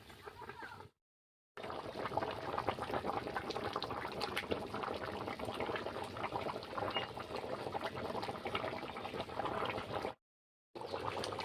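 Goat meat curry bubbling steadily in a pot, a continuous dense simmering wash broken by two brief silent gaps, close and moderately loud with no talk.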